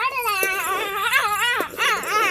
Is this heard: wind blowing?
no